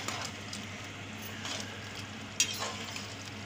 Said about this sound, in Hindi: अब इसे मिक्स करना है यानी चलाना है।